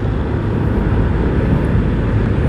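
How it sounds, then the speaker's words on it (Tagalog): Large airplane passing overhead, a steady low rumbling drone that stays loud and constant for a few seconds, with no talk on top. "Laki ng aeroplano"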